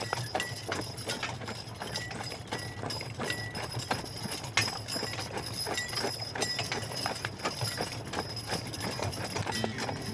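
Steady clip-clop of a trotting horse with faint metallic jingling mixed in, continuous and fairly close, no voices.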